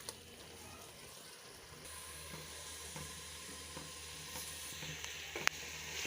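Chicken sautéing in ghee in a pan for spinach chicken, a faint steady sizzle with light clinks and a brief sharp tap near the end, no talk.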